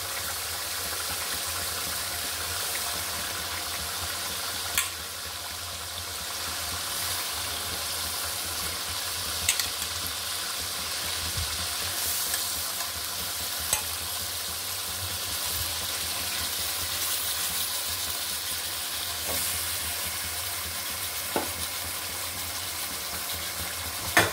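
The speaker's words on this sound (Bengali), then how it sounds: "এখন আমি মাছটা দিয়ে দিব" Fish sizzling in oil on top of cooked-down spice masala, a steady low frying hiss throughout with occasional soft clicks, with no one speaking.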